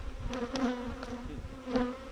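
Honeybees buzzing loudly at an open hive during a beekeeping lesson, a steady droning hum with brief louder swells as individual bees fly close.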